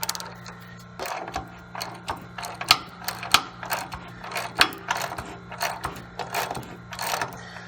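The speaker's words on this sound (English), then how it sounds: "the first thing we're going to do is unloosen the set screw here for the leaf springs for the" The set screw on the leaf springs for a Zamboni's blade is loosened with a tool, giving a series of close, sharp metallic clicks and ratcheting taps in an irregular rhythm over a low steady hum.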